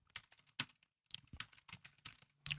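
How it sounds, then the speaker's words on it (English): Typing on a computer keyboard during a live online webinar: quiet, irregular keystrokes in short clusters with one brief pause, and no voices. "my typing skills right now are lacking"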